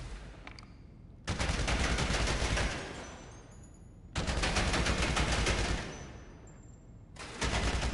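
Sustained automatic gunfire at the bunker shooting range in GTA Online, loud rapid bursts in three long volleys separated by short pauses.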